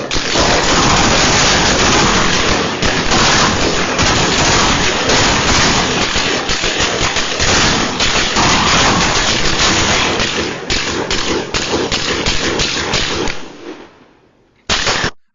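Sustained gunfire from a real shooting incident, a loud, dense barrage of rapid shots and bursts close to the microphone that runs almost continuously before cutting off abruptly near the end.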